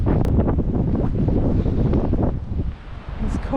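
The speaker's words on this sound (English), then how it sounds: "it's blowing about 40 kilometres an hour today" Strong wind of about 40 km/h roars and buffets the microphone nonstop on a coastal sandstone clifftop in Western Australia, loud gusts easing slightly near the end.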